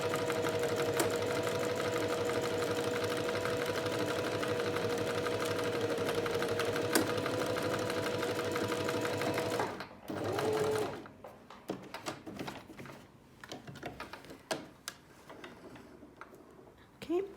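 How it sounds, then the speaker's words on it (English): An Alfa Practik 9 sewing machine stitches an automatic buttonhole with a loud, fast, even whir for about ten seconds, then stops, leaving scattered clicks and handling noises. "that's what a fully automatic buttonhole feature does"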